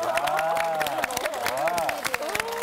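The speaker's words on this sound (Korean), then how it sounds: "박수 한번 쳐드려야 될것 같아요." Audience clapping during a lecture, a run of sharp, fairly close claps with someone talking over them the whole time.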